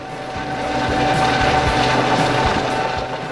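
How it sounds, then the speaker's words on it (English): A Great North Air Ambulance helicopter close by, flying off, its rotor thumping in steady rhythmic beats over a loud engine whine that swells and then begins to fade. "the team scrambled and the helicopter flew off"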